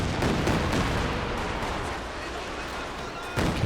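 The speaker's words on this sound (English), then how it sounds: "Second Katyusha barrage coming in over here now." Katyusha rocket barrage in Company of Heroes 2, a 1v1 match: a continuous roaring, rumbling wash of blasts that eases slightly midway, then a fresh heavy burst near the end.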